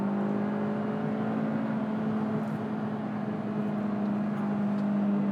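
A 2022 Kia Picanto with a 1.2 engine drones steadily from inside the cabin while driving, a continuous even hum with road noise and no talking.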